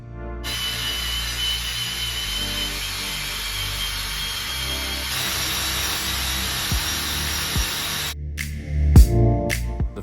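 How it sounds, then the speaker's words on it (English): A power drill fitted with a scrub brush attachment scrubs the glass of a kitchen oven, a steady whirring grind running close and loud for most of the stretch before cutting off, followed by a few brief knocks. "I found this nifty tool on Amazon to connect to my drill and scrub the glass real good"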